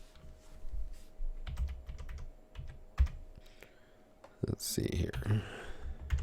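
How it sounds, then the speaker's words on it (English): Computer keyboard keys tapped in quick irregular bursts while a wireless network password is entered, close and fairly quiet, with someone speaking briefly near the end. "and we'll punch in our password."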